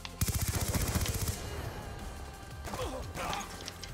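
Rapid automatic fire from the Vector submachine gun in Black Ops 2, a loud dense burst for over a second, then scattered in-game impacts and crashes.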